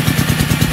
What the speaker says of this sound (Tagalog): Maingay po yung ating generator dahil naputol po yung kanyang kwan eh.